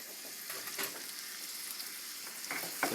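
Organic ground beef sizzles and fries steadily in a hot pan, a continuous close crackle with a few sharper pops and spatters, no voices over it.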